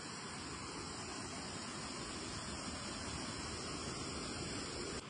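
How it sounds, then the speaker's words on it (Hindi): A fast-flowing mountain stream on the Gaumukh trek rushes close by as a steady, loud, unbroken roar of water, with no voices. "और पानी का बहाव देखिए आप"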